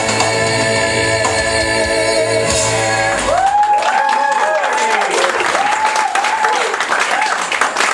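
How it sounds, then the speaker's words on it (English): A church audience bursts into loud clapping and shouts after a gospel song; the music's last notes fade as applause and whoops take over, with a voice speaking briefly over the crowd. "if y'all keep clapping like this, we're going to be here till in the morning"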